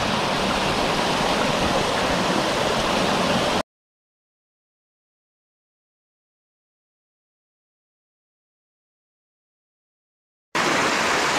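Steady broadband rush of a waterfall on a mountain stream, loud and close, cutting out completely for about seven seconds of silence before the roar resumes.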